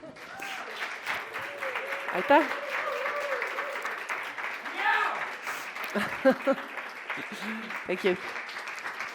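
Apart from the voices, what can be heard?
audience applause at a workshop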